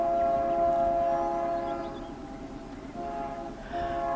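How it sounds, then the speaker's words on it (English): A Union Pacific train horn sounds at a rail crossing, a sustained chord held steadily for a few seconds with a slight dip midway, moderately distant and without talk. "As you can hear the horn coming."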